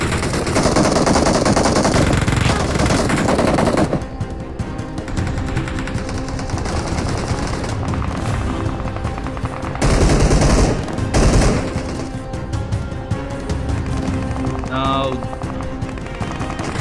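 Rapid bursts of gunfire in a shooter video game, dense and loud, overlapping with busy game noise while a voice talks over much of it.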